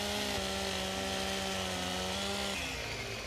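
A chainsaw in Farming Simulator 17, on the Klingenbach map, drones steadily with a buzzing motor tone that dips in pitch near the end. It is heard alone, with no voices.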